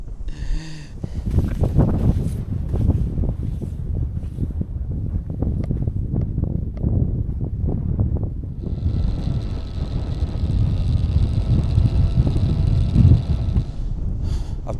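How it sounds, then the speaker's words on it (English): Wind buffeting a microphone high on a mountain in the Lake District in January, loud gusty rumbling and flapping throughout, with a steadier hiss joining in the second half. "Wind speeds of 14 to 15 miles an hour."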